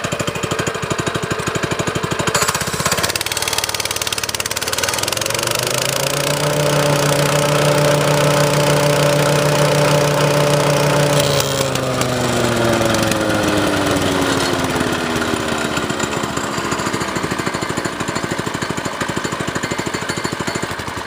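A stump grinder engine, just reassembled after repair, is throttled up from a steady idle. Its pitch climbs, holds at a loud high rev for several seconds, then winds back down, close and with no talking.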